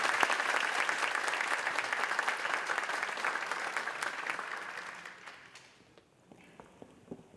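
Applause fills a school district awards ceremony for a middle school paraprofessional finalist, dense clapping that thins out and dies away toward the end, leaving scattered footsteps and faint room sounds.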